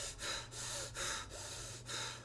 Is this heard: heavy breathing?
yes